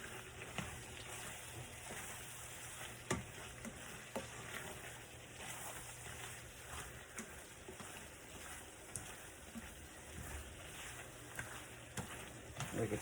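Garlic sizzles in hot oil for a stir fry, a continuous crackling hiss with scattered pops and the scrape of stirring, heard at close range with no talk.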